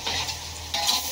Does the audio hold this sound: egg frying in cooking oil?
yes